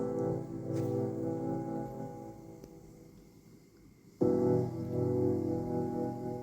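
A groovy electronic track with a deep synth bass line and layered keys, steady and full, dropping briefly quieter before the full beat returns loudly.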